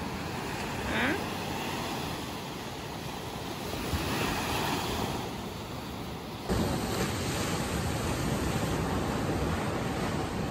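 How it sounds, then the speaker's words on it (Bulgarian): Sea waves wash onto a beach in a steady, broad roar of surf, with wind buffeting the microphone and no voice. "Ще ви оставя да се насладите на шума на вълни."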